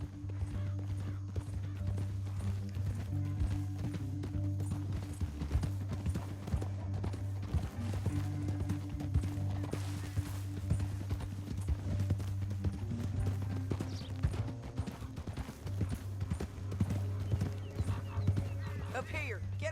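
Steady clip-clop of horse hooves plodding along in the video game Red Dead Redemption 2, continuous and fairly close, with a voice talking over them and a neigh near the end.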